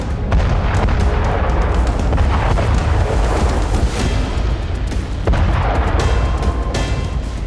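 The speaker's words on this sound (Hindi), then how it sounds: "यह रूस का PM-21 ग्रैड MLRS था।" Russian PM-21 Grad multiple rocket launcher fire in a war zone makes a dense, continuous roar of rapid booms and whooshing blasts, loud and sustained throughout, with no voices.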